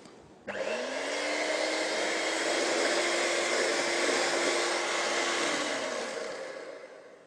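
An electric mixer beating chocolate flan cake batter, switching on abruptly into a loud, steady whirring motor drone that runs about seven seconds before easing off, with no talk.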